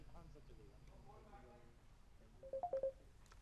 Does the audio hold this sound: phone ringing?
yes